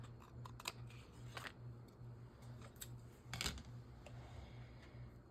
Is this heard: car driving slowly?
no